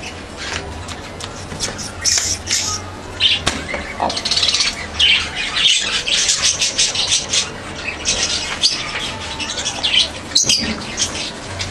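Pet birds squawk and chirp steadily while being bathed with a water spray, with bursts of wing flapping, the calls near and busy throughout without talking.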